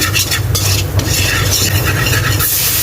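Margarine and all-purpose flour stirred together in a hot pan, a loud continuous sizzle mixed with rapid scraping and rubbing strokes of the stirring utensil.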